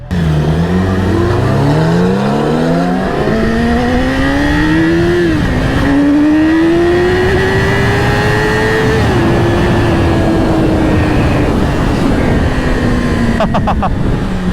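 A 2021-era Porsche 991.1 Carrera S races and revs hard nearby. Its engine note climbs through several gears in a loud, continuous rising whine, with brief dips at the shifts.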